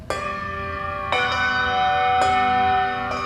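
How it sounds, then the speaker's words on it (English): Church bells ring out loud and close inside a cramped bell loft, three heavy strikes spaced about a second apart, each leaving a long shimmering hum that rings on between blows. "Stop ringing the bell!"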